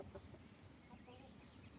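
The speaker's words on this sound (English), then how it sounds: "a pretty chicken, ain't he?" A chicken gives faint, distant clucks outdoors on a farm, a couple of short calls over low background noise and quiet ambient rumble.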